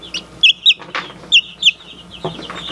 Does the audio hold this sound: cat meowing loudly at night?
no